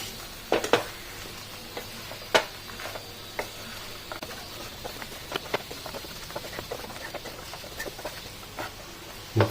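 Fried chicken pieces are mixed into sauce in a pan for a restaurant-style crispy chicken starter, with intermittent scraping and clacking strokes over a faint sizzle, close and moderately loud.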